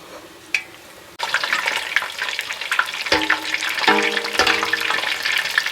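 Battered chicken pieces dropped into hot oil, a steady loud sizzle and crackle close by, with bubbling bursts as more pieces go in.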